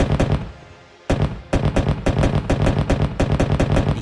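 A Bradley fighting vehicle's cannon fires in a video game, loud close rapid bursts of booming shots after a brief pause, each report sharp and punchy with rolling echo.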